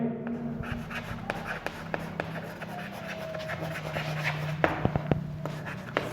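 Marker or chalk strokes on a classroom board as a teacher writes out answers, a steady series of short scratchy rubs and taps, fairly close, with faint room noise and no talking.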